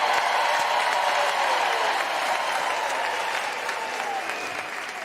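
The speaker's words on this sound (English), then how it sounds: "Can we celebrate in a wondrous applause and Mukulukwani?" Graduation ceremony audience applauding at a university autumn graduation, a broad, continuous clatter of many people clapping in a large hall, steady and full before tapering gently over five seconds, with a faint voice-like tone threaded through.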